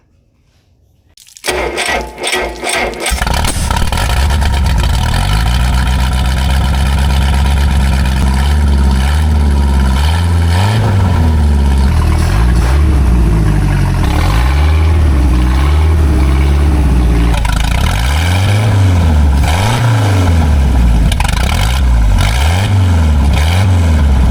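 A rebuilt boat engine cranks briefly, then fires up and settles into a steady, loud, rattling run with rhythmic pulsing, continuing without pause.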